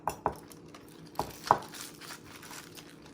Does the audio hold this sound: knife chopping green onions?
yes